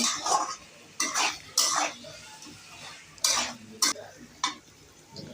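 A spoon scrapes and knocks in a pan while mixing fried soybean chunks and fried potatoes into a curry: several distinct scraping strokes with short clanks, spaced irregularly over a faint low background and no speech.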